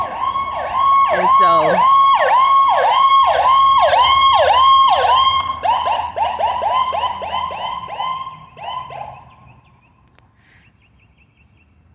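A loud, close ambulance siren wails in rapid repeating whoops, then shifts to a faster warble before fading away into quiet.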